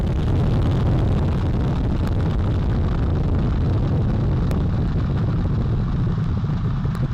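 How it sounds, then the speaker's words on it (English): The Artemis I rocket lifts off on four RS-25 core-stage engines and two solid rocket boosters, producing a loud, steady, broadband roar that crackles and rumbles without pause. "All 4 RS-25 engines on the core stage and 2 solid rocket boosters now propelling the vehicle at 128 miles per hour"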